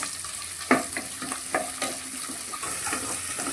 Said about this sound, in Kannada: ಇದಕ್ಕೆ ಕರಿಬೇವು, ನೀರುಳ್ಳಿಯನ್ನು ಸೇರಿಸ್ಕೊಳ್ತಿದ್ದೇನೆ.